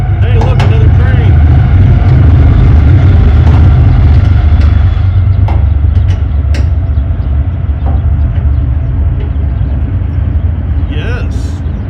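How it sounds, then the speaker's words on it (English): A train rumbles past nearby with a loud, continuous low roar, heard from around a 1972 Chevrolet C10 pickup, while people talk over it. "Hey, look, another train."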